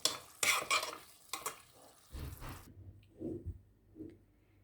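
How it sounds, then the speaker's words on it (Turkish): Green beans with egg cooking in a pan are stirred with a utensil, a few quick scraping strokes and clinks at first, then softer intermittent stirring over a low sizzle. "daha sonra karıştırarak her tarafına yumurtayı eşit miktarda dağıtarak pişmesini sağlayacağım"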